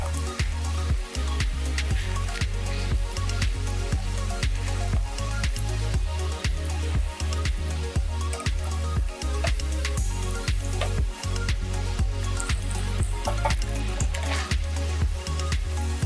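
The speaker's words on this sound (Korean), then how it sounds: "내용물을 채운 반죽을 달궈진 기름에 넣고 국자로 조심히 눌러줍니다." Hotteok, filled Korean sweet pancake dough, frying in hot oil while pressed with a ladle: continuous loud sizzling and crackling punctuated by frequent sharp pops and spatters, with no talking.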